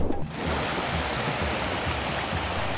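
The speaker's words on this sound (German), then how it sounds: "Wir kommen an einen Fluss, der sich durch helle Felsen zieht." River flowing over light-colored rocks, a loud, constant broadband rush of water with no voices.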